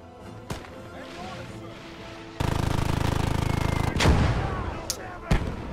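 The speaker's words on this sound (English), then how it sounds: "the AI can shoot mortars directly into your foxholes" Mortar and artillery fire thunders in the World War II game Gates of Hell, with a sustained rumbling barrage and several sharp blasts and impacts close by, loud over the battle noise.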